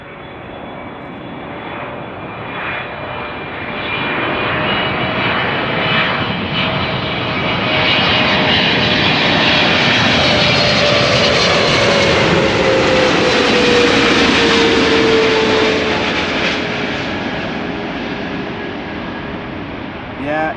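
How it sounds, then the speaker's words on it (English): A Boeing 777 airliner arriving from Johannesburg at Amsterdam Schiphol sweeps past with a loud, sustained jet roar, its broadband rush and whining engine tone swelling through the middle and easing away toward the end. "Wasn't that the 777 arriving from Johannesburg?"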